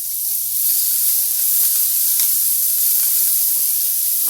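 Shredded cabbage stir-fried on a high flame along with green chillies for homemade wheat-flour chowmein, giving a loud, steady hiss and sizzle with faint scraping of the stirring, and no voices.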